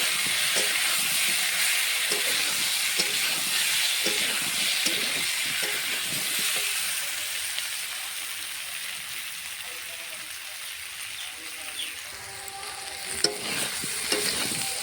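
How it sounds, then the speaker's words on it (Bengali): Potatoes sizzling and crackling as they fry in oil, with intermittent clinks and scraping of stirring over a continuous hiss. "দেখো আলুটা খুব সুন্দর করে ভেজে নিচ্ছি"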